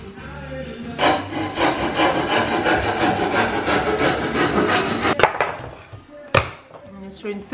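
Plasterboard being cut during a home renovation, a loud close rasping saw-like scraping in steady strokes for several seconds, then a few sharp knocks and snaps as the piece breaks.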